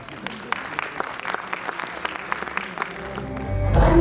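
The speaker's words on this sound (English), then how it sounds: "Let's encourage them with a big round of applause." Audience applause for kindergarten performers at a school annual function, a steady patter of clapping throughout that swells louder toward the end as music begins.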